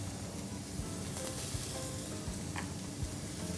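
Garlic sizzles and fries in a pan while being stirred, a steady close crackling hiss with a few soft scraping stir sounds, no talking.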